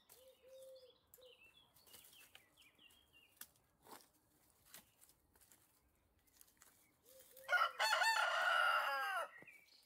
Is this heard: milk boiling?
no